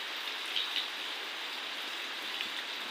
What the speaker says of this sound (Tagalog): Talagang umuulan talaga siya.